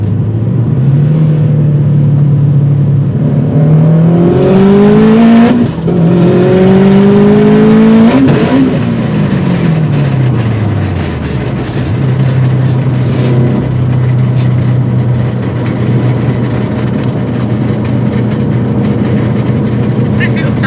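A Scion FR-S boosted to 16 psi accelerates hard at full throttle, its loud engine note climbing through rising gear pulls before dropping to a steady drone, with voices in the cabin.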